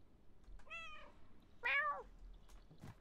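A cat meows twice in the video game Stray, the first a drawn-out plaintive call and the second louder and sharper, close and clear over a faint low background hum.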